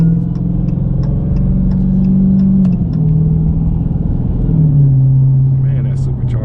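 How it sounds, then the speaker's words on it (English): Supercharged engine of a 2019 Dodge Challenger Hellcat Redeye accelerating, a steady low rumble with rising and falling tones heard from inside the car, continuous and fairly loud, with a voice talking over it. "that supercharger sounds good"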